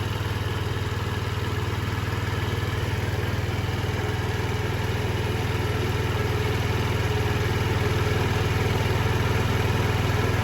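A GY6 engine on a 2007 Diamo Retro 50 scooter runs steadily after a dose of starting fluid, a loud, even idle drone that continues without a break and without talk.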